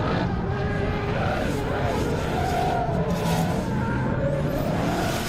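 Two BMW 3 Series cars, a Touring estate and a sports coupé, drifting side by side at a competition, with loud continuous engine roar and tyre noise throughout.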